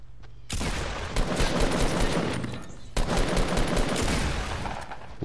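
Sustained automatic gunfire in Fortnite, a dense, loud stream of rapid shots that runs almost without a break for several seconds, with a brief cut midway before it resumes.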